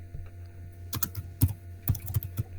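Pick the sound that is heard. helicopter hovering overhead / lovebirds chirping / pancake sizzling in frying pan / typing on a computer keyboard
typing on a computer keyboard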